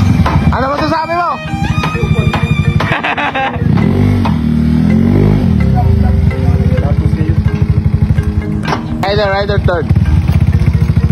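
Honda Beat v3 superstock scooter engine revs hard in sharp, loud bursts with rising and falling pitch, close by, while people talk over and between the revs.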